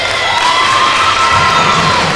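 Spectators at an Isle of Man versus Wales match cheer and shout loudly in a sustained wash of crowd noise, with a high whistle-like tone sliding across it.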